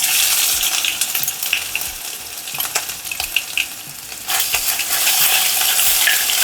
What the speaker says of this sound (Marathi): मोहरी तडतडली की ही जे आपल्याला आलं लसूण आणि हिरवी मिरचीची पेस्ट आहे ती मी घालते याच्यात